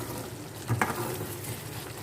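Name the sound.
onion and yogurt masala sizzling as it roasts in a pan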